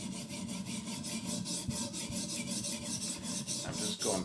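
A Benchmade Bugout 535 knife with S30V steel, thumb stud removed, being sharpened on a TS Prof guided sharpener: a steady, continuous back-and-forth raspy stone rubbing, close and fairly quiet, with no talk.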